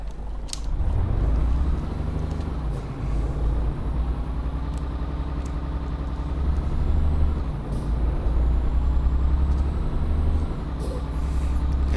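Truck air brake in Euro Truck Simulator 2, a loud pneumatic hiss rising over a steady, rumbling diesel engine idle that continues throughout, with no talking.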